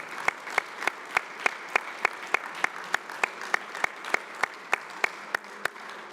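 Audience applause at an event announcing a merger of the Urban League and Grace Hill: steady, evenly spaced claps over a continuous bed of crowd clapping, moderately distant, with no talking.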